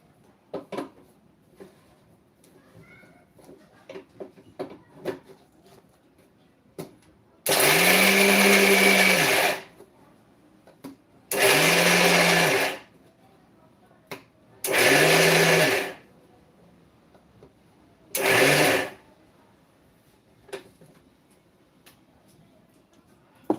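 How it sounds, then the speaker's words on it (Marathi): A mixer grinder blending chutney whirs loudly in four separate bursts, the first and longest lasting about two seconds, with quiet clinks and taps in between. "आता हे सुद्धा आपण मिक्सरमध्ये फिरवून घेऊ"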